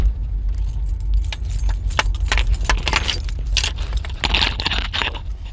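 Car ignition keys jangle and scrape with a microphone cable tangled around them, bright metallic clinks and rattles in irregular bursts, close to the microphone inside a parked car with the engine off.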